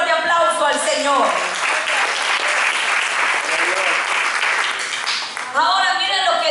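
A church congregation breaks into applause, many hands clapping in a dense, steady burst for several seconds, with a voice talking before and after the clapping.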